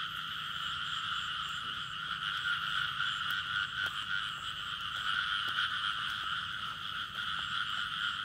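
Frogs croak in a dense, continuous chorus at night during a frog hunt, a steady loud trilling din with occasional sharper calls standing out, no talking.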